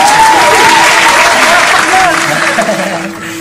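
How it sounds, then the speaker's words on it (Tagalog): A small group of people clapping outdoors near a newly built treehouse, a loud, dense patter with a raised voice calling out over it, fading slightly toward the end. "Palakpakan natin!"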